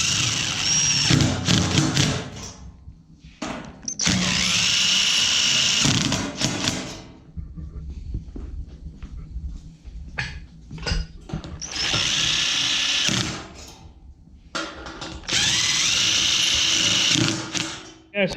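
A DeWalt power drill drives bolts into an extra large metal sign in loud, repeated bursts of whirring, each a few seconds long, separated by quieter handling noise.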